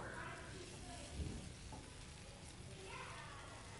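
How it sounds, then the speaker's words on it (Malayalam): Torn parotta, scrambled egg and masala are tossed together in a hot pan for kothu parotta, a quiet continuous sizzle with soft stirring scrapes and a brief clatter, under a speaking voice. "പൊറോട്ടയും മുട്ട ചിക്കി പൊരിച്ചതും മസാലയും എല്ലാം കൂടെ കൂട്ടി നമുക്ക് നല്ലതുപോലെ ഇതൊന്ന് മിക്സ് ചെയ്തെടുക്കാം"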